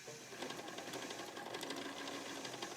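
Sewing machine stitching across fabric, a quiet, rapid, steady mechanical whir with fast repeating needle clicks, heard up close with no talking.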